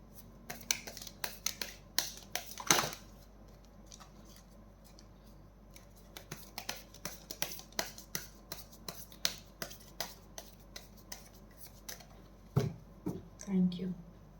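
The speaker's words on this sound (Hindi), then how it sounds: "This is my last shuffle" Tarot cards shuffled by hand in uneven bursts of soft slaps and riffles, close and quiet, with pauses and a few sharper clicks toward the end.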